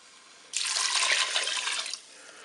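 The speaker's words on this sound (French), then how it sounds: "Je vais ajouter l'eau." Water pours into a Cookeo multicooker over rice, a steady bright splashing gush starting abruptly and running about one and a half seconds before cutting off, close and alone.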